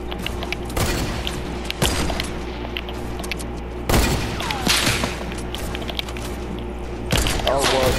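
Gunfire in a Fortnite duos match with snipers: sharp, loud shots and booming cracks at irregular intervals, echoing between quieter stretches, with voices talking over the action.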